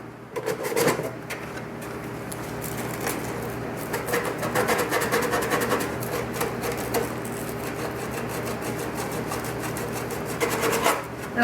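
A rough replica helmet surface being smoothed with steady, close rasping and rubbing strokes, with a few sharper scrapes mixed in.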